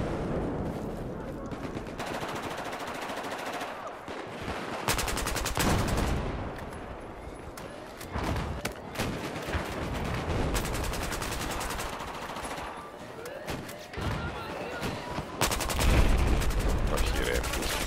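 Rocket and sniper fire in the Battlefield video game rolls through as dense, continuous automatic bursts with heavier booms, loud and close, and a voice talks intermittently under the din.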